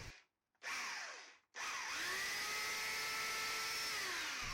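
A power tool whirs up in two short bursts, then runs steadily at a high motor pitch, winding slightly as it settles, with no voices.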